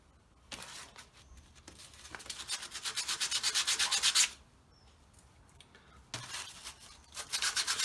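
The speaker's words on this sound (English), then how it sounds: "I'm just cleaning up the actual braids with the emery and then assembling it" Emery cloth rubbed on corrosion- and oil-coated electrical contact braids, a close scratchy rasp in quick rhythmic back-and-forth strokes, building to a fast run, pausing, then resuming.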